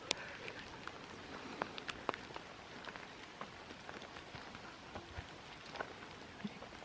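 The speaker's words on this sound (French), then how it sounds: "j'arrive sous la pluie, mais ça me dérange pas vraiment" Steady rain falls at a lakeside campsite, patting on surfaces with scattered sharper drips throughout and no voices.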